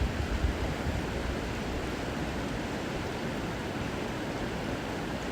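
Ocean waves wash over rocks in a steady, broad rush of surf that holds at the same level without a break, a continuous hiss with no voices.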